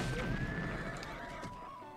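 A horse in Breath of the Wild gives a long whinny over a busy game soundscape, loud and close, with a descending tonal cry and a low rumble beneath.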